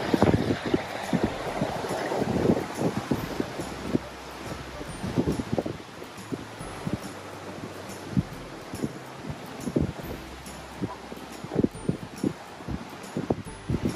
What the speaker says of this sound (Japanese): 水の音がすごいな。